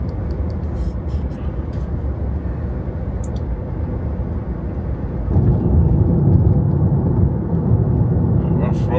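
A Tesla Model 3 Standard Range rear-wheel drive rolls over a rough road, heard from inside as a continuous low rumble of tire and road noise that grows louder partway through.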